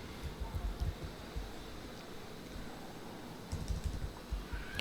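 Steady, quiet clatter of keys on a computer keyboard as an SQL query is typed, close and alone, with brief pauses between bursts of keystrokes.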